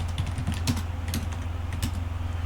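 Fingers tap out code on a computer keyboard in quick, uneven clusters of keystrokes, close and fairly quiet over a low steady hum.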